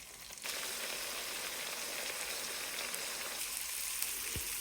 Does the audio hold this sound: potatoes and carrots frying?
yes